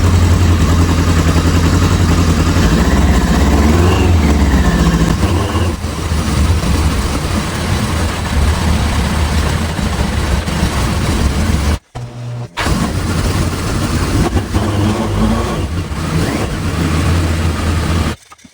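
A 1983 Yamaha XJ900 Seca motorcycle engine runs steadily and loudly close by, its low rumble continuous apart from a brief drop in sound near the end, with no talking.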